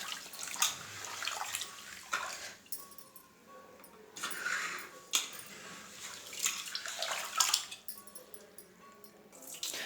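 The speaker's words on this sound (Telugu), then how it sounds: "బియ్యం కడుగుదాము. బియ్యం కడుగుతాము." Foxtail millet rice is washed by hand in water, with irregular sloshing and swishing bursts, light clinks of the vessel, and quiet pauses between strokes, heard close with no voices.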